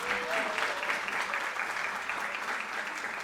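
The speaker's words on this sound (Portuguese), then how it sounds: "Uma salva de palmas para eles, eles vieram lá do Campus 2." An audience applauds guests at a sustainability education conference, steady broad clapping from a crowd, with a brief tonal voice or squeak early on and faint talk beneath the even wash of hands.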